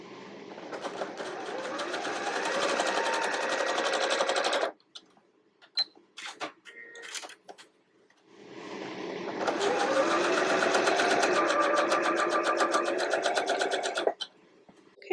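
A sewing machine stitches quilt pieces in leaf green fabric, running in two steady, loud bursts of several seconds each with a short pause between them filled with small handling clicks.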